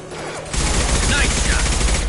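A loud burst of rapid gunfire in Mass Effect 2 erupts after a short quiet lead-in and continues densely to the end, close and dominant.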